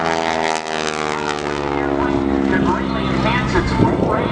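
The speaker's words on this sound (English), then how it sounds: "Pratt Whitney radial engine." An aerobatic airshow airplane with a supercharged, fuel-injected Pratt & Whitney radial engine drones loudly and continuously, its propeller tone shifting in pitch as it passes, with a voice speaking over it.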